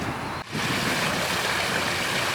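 A swimming pool pump runs steadily as a constant, even broadband hum and hiss with no talk, briefly dipping near the start before holding level.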